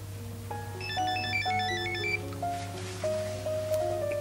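A mobile phone ringtone plays a bright electronic melody of stepping tones, repeating its tune clearly over a low steady hum, with no speech.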